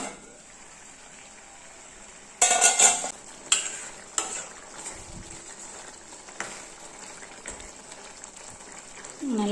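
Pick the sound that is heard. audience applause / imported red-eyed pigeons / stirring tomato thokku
stirring tomato thokku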